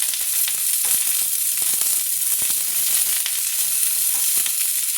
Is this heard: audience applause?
no